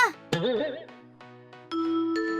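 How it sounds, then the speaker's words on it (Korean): Bright ding-dong chime for a correct quiz answer, several clear bell-like tones ringing out in a rising sequence with sustained overtones, loud and close with no talking. "딩동댕!"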